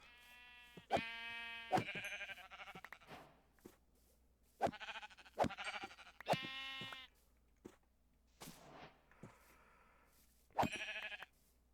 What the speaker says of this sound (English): We will just kill this sheep.